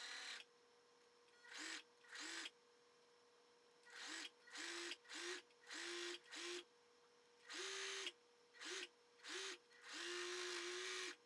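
An overlock sewing machine runs in repeated short bursts with pauses between, whirring steadily as it stitches a two-layer ribbed hem band to sweatshirt fabric, three layers at once, ending with one longer run.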